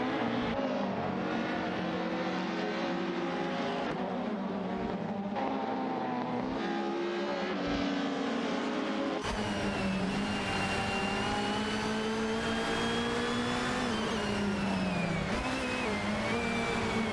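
Racing cars, among them an Alfa Romeo 156 GTA, roar through a race in a video game, a steady, loud blend of engines rising and falling in pitch as they accelerate and shift, with no voices.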